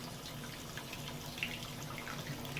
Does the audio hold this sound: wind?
no